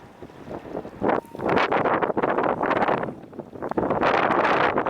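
Gusty wind buffets the microphone in loud rumbling bursts while fishing outdoors in the cold, rising and falling over several seconds with no speech.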